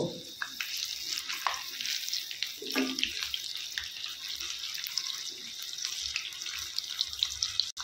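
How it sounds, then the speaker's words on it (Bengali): Fulori fritters fry in hot oil, a steady close crackling sizzle with occasional scraping and stirring knocks, no voices over it. "ফুলবড়িগুলো লাল লাল করে ভাজা হয়ে গেছে"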